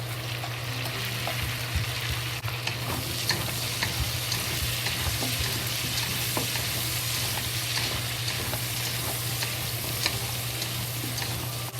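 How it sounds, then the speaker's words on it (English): Brussels sprouts stir-frying in rendered bacon fat with scallion and ginger: a steady, loud sizzle close up, broken by repeated scraping and clacking from stirring, with no one speaking. "Then we put the Brussels sprouts into it."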